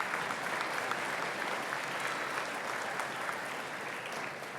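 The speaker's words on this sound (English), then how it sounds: "Please give him a big round of applause" Steady applause from a dinner audience at a chamber of commerce annual awards dinner, dense clapping at an even level throughout, no voices over it.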